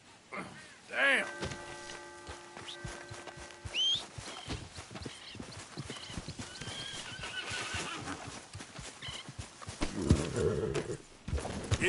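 A horse whinnies and its hooves clip-clop in the video game Red Dead Redemption 2. A loud neigh near the start gives way to steady walking hoofbeats over outdoor ambience, with a voice briefly heard.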